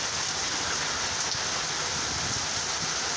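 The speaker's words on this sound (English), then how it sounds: "It is fucking pouring out here." Heavy rain pours down outdoors in Boone County, Indiana, a dense, constant hiss of drops striking surfaces close by, with no voices heard.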